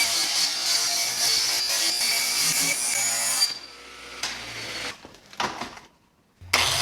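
Power saw trimming 6/4 red oak boards: a steady loud whining cut for a few seconds, then dropping away into quieter rubbing and a brief final burst.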